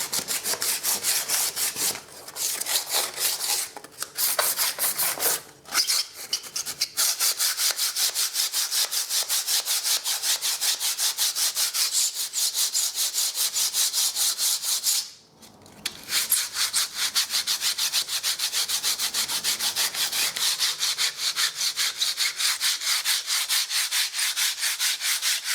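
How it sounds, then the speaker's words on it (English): Sandpaper, likely P80 grit, rubs along the edges of a wall ahead of painting over water stains, a close, steady scratchy rasping that runs almost continuously, broken by a few brief pauses. "Those will give all the edges a sand."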